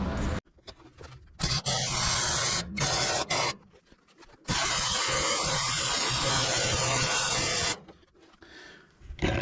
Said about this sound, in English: I'll fire up the welder, and I'll have you guys ride along while I weld this off.